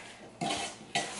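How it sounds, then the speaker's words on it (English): Spoon stirring sugar into cherries for sweet cherry jam in a pot, two soft scraping, swishing strokes a half-second apart, close and quiet with no talking. "I'm just going to start to stir it around so that the fruit is completely covered"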